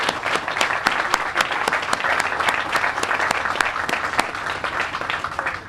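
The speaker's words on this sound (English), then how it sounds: "Join me in giving them and all of the employees at DOTD a big round of applause." A crowd at an outdoor groundbreaking ceremony for an I-10 highway widening project gives a big round of applause, dense continuous clapping that holds at an even level for several seconds.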